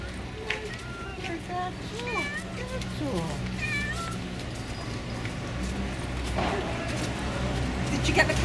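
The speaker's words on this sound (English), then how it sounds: "Did you get the cat in" Cat meows repeatedly outdoors on a holiday walkabout in Playa del Inglés, Gran Canaria, a series of rising and falling cries close by, with people talking and street noise around.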